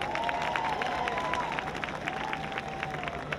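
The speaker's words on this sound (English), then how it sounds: "Give her a round of applause as well" Crowd at a Dream Lives 2017 event claps steadily and continuously, a thick wash of applause with faint cheering mixed in.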